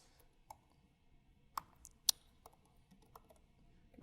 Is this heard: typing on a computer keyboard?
yes